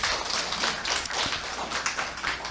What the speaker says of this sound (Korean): 이럴 때는 우리 회사에 박수 한번 쳐줘야 돼요.